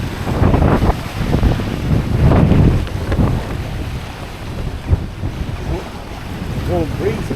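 A warm breeze blows in from the south on a coastline, buffeting the microphone with low rumbling gusts that come and go, with waves washing in beneath.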